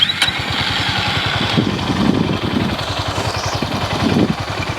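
A Honda CB 350 RS motorcycle idles close by, its exhaust giving a steady, loud, evenly pulsing low rumble with no mechanical clatter.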